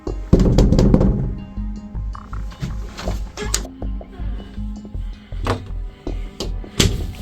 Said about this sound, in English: I'm just gonna knock on his door.